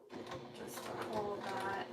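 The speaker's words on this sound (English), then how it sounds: "I'm gonna start back tacking first instead of sewing forward" A sewing machine back tacking on a fabric pouch runs in short bursts, its mechanical whir close and fairly loud, with faint speech partly underneath.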